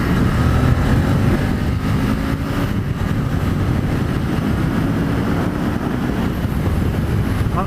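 A Honda VTR Firestorm motorcycle engine runs while the bike is ridden, producing a loud, continuous low drone mixed with heavy wind rush and road noise, with no speech.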